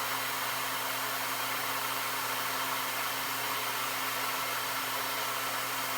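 A Hychika heat gun blowing continuously at high heat while drying paint, a loud, steady airy roar with a constant motor hum and no changes or voices.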